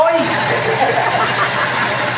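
Motorcycle engine running steadily near a plywood work area, a constant loud drone lasting throughout with a voice talking over it.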